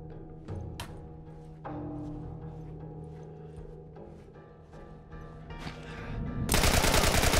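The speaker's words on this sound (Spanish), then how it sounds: "Cinco tiros de escopeta." Shotgun blasts in The Last of Us Remastered on PS4, several sharp separate reports spaced irregularly among game sounds, ending in a loud dense burst of noise.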